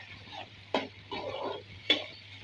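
Onions hit hot oil in a kadai and fry with a soft sizzle, punctuated by two sharp stirring clinks and a low steady hum underneath.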